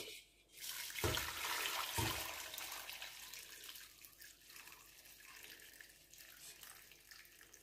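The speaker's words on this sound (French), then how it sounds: "À l'aide d'une passoire, je vais filtrer ma sauce." Sauce poured through a strainer makes a close, trickling liquid pour that starts with a couple of splashy knocks, then thins out and fades into light, quiet dribbling.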